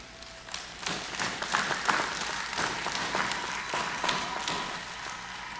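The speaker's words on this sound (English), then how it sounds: "Let's give another round of applause" Audience applause at a national day medal ceremony in Dominica, honouring long service medal awardees; steady, dense clapping from a sizeable crowd, fairly loud and continuous throughout without speech.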